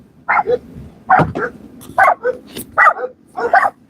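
Dogs barking in a steady series of sharp barks, close by and loud, with short pauses between each bark and no talking.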